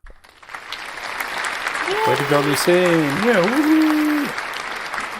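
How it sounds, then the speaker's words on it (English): Applause sound effect played over a live stream from a jewelry supply warehouse sale, a steady wash of clapping and crowd noise beneath excited cheering voices and a rising whoop. "let's get some music and applause music"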